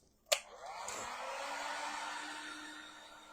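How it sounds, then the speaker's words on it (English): A heat gun snaps on with a sharp click and then blows with a steady, close whirring rush while drying a freshly painted ghost-with-broom DIY craft piece. "I'm going to grab my heat gun so I can dry this"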